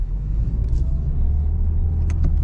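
Car pulling away during a driving exam in Tauragė, Lithuania, heard from inside as a steady, loud low engine rumble and road drone with faint clicks.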